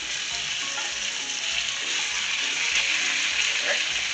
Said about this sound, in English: This pan is nice. It's really hot. Got some coconut oil in there.